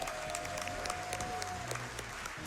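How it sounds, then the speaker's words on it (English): A crowd at a speedrunning charity event claps and cheers steadily, a dense wash of applause with a few whoops rising out of it. "Can we get a round of applause for them?"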